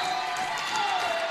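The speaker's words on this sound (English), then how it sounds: "Crowd trying to fire up this team to fight back." Crowd noise fills a volleyball gym during a women's match, a steady broadband roar of cheering and shouting that stays loud and even throughout, with a faint sustained whistle-like tone running through it.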